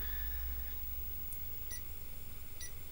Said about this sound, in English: You can hear a little beeping sound coming from it